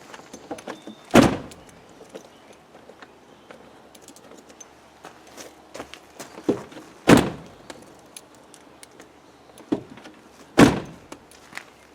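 A Land Rover Defender door slams shut three times with heavy, well-spaced thunks, and small metallic clicks of a key working the lock come between them, all fairly close with no talking.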